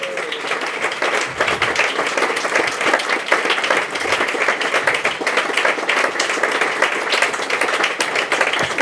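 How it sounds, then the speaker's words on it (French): An audience applauds performers on stage with steady, dense, close clapping that holds at full loudness for the whole stretch, and no voices stand out. "Est-ce qu'on peut les applaudir,"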